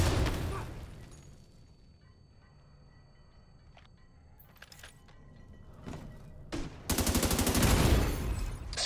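Gunfire in the shooter game Tom Clancy's The Division 2, with a few sharp isolated shots and then a dense rapid burst near the end, loud and close, with no talking.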